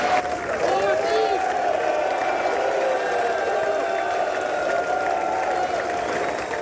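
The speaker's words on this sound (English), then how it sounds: "The Prime Minister walked into loud cheer and applause as lawmakers welcomed him." Lawmakers in the US Congress chamber greet a prime minister with sustained cheering and applause, a broad roar of clapping and voices with a few whoops, steady throughout.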